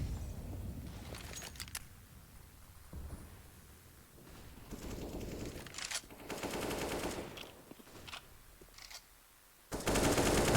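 Counter-Strike gunfire during a Portal Esports versus Portal Blue tournament match, quick rifle bursts and single shots in scattered clusters, with louder volleys near the end over faint background game ambience.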